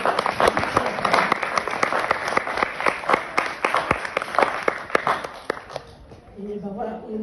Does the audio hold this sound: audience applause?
yes